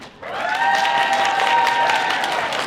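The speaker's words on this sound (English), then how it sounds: "So big round of applause to them" An audience at a costume contest applauds a sponsor, steady clapping from a crowd that swells quickly and holds at full strength, with a sustained tonal sound running underneath.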